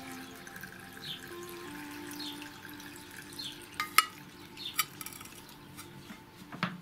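Brine with vegetables for lightly salted crunchy pickled cucumbers is poured into a glass jar. The faint, trickling water sound is broken by a few sharp clinks and knocks of glass near the end.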